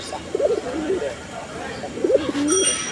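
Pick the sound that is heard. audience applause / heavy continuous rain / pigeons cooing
pigeons cooing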